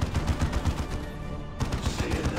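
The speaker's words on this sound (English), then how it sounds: "all guns, open fire" Rapid rattling gunfire in Warhammer 40,000: Dawn of War 2 Retribution, a steady stream of close shots that pauses briefly and then resumes.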